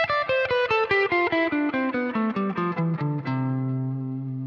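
An electric guitar with distortion plays a fast, evenly alternate-picked scale that runs steadily downward in quick separate notes, then settles on one ringing, sustained note.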